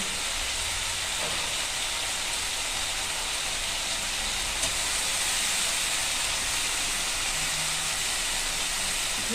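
Washed toor and masoor lentils frying in a pan with figs, a loud, dense, continuous sizzling hiss that stays steady throughout, close up and without talk.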